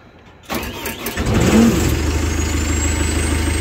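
A huge saw machine with rear wheel steer cranks and its diesel engine catches after half a second, rising into a loud, steady rumbling idle with a faint high whine, close by and with no talking.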